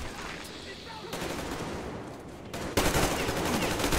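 Bursts of automatic gunfire rattle in the video game Metro Exodus, the volleys growing louder and denser toward the end.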